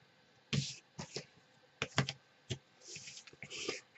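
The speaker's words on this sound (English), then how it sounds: "So let's tape this one." Sharp tearing and sticking sounds of tape pulled and pressed onto paper during a craft project, several brief separate bursts spaced across a few seconds, close and fairly quiet.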